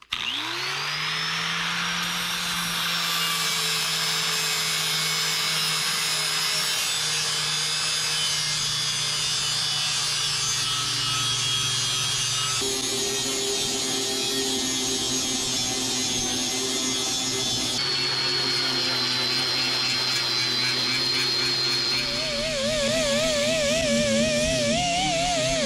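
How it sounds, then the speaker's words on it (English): Flap disc on a grinder stripping old paint and decals to bare metal on a 1959 Dodge Coronet body panel, a loud sustained abrasive whine and rasp with shifting pitch as pressure changes, heard alone. "I've just been using my flapper disc for this."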